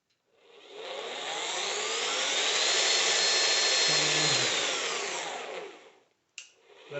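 The electric motor of a kids' ride-on toy jeep upgraded from 12 to 24 volts with a soft start, ramping up to a loud, steady whine at full speed and then winding down, with a short clunk near the end.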